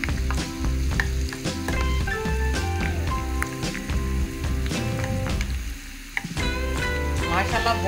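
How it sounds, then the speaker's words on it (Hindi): Red chillies fry in oil in a pan over a low flame, a steady close crackling sizzle with dense popping and a few stirring scrapes, heard alone. "लो फ्लेम पे हमने मिर्चें फ्राई करनी है"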